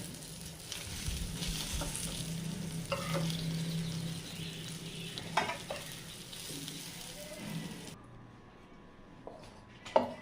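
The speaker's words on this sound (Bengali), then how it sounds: "2 রকম করে পটল ভাজি করে নিলাম, হয়ে গেছে।" Pointed gourd (potol) sizzles softly as it fries in a pan while a spatula scrapes and knocks against the metal. Near the end the frying noise drops away, leaving a few clatters.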